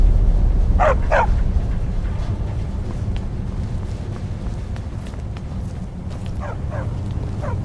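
A dog in the Skyrim video game barks in quick pairs, once early and again near the end, heard over a steady low background rumble.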